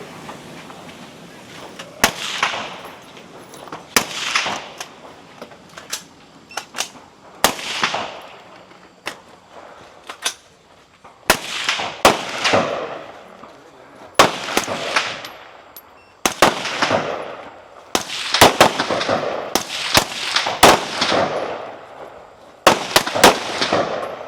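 A rapid string of loud, close gunshots, about a dozen with sharp cracks and ringing tails, fires at irregular intervals on a stage of a men's 40+ regional shooting competition in Ohio.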